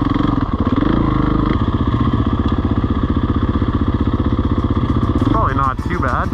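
A trail motorcycle engine revs hard and steadily during a wheelie, a loud close rasping drone that drops off near the end as a voice cuts in.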